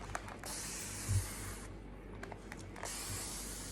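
A hand spray bottle mists microgreens in two long, even hissing bursts separated by a short pause, close and fairly soft.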